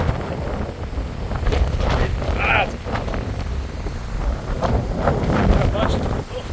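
A weather front drives strong wind across the microphone outdoors, causing constant low rumbling buffeting with gusts that swell and fade, while people speak faintly beneath it.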